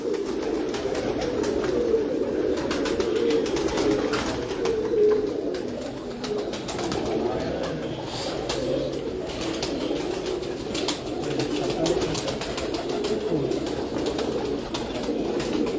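Pigeons from a breeder's flock coo softly and continuously, a low burbling murmur layered over steady outdoor ambience with no speech.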